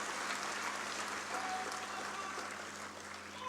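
A crowd in Jaipur claps steadily to welcome Sikkim Governor Om Prakash Mathur at a civic felicitation event. The dense clapping continues throughout over a low electrical hum and eases slightly near the end.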